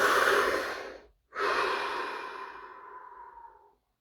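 A deep breath: a full, airy inhale, a brief pause, then a long exhale that slowly fades out. Close and clear, with no talking.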